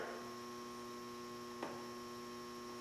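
Blower motor of a homemade downdraft table with filters, running as a steady low electrical hum, close and even throughout, with one faint click and no talk.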